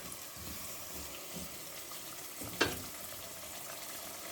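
Tomato paste fries in a pan for a turnip and meat curry, giving a soft, steady sizzle with light stirring and one sharp clink midway. The sound is faint and close, with no speech.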